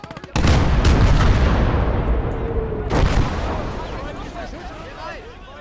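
Two heavy artillery blasts from the WWII strategy game Close Combat: Gates of Hell boom out a few seconds apart, each a sharp, loud crack followed by a long, rumbling decay.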